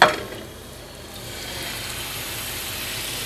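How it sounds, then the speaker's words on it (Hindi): Marinated chicken tikka boti hits hot oil in a fry pan over a high flame, a brief clatter giving way to a steady, building sizzle and crackle close by. "तो ऑयल गर्म होने के बाद हम इसमें चिकन डालेंगे।"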